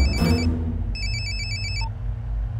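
A mobile phone rings with an electronic tone after a call is dialed, in a tense action scene from a film. It plays as a short burst, then a longer run of quick repeated beeps, loud and clear over a low background rumble.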